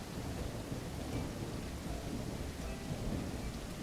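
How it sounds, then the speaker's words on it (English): Heavy rain pours steadily in the Railroads Online video game, a dense continuous wash with deep thunder rumbling underneath throughout, loud and enveloping, with no talk. "this rain's coming down quite a bit now"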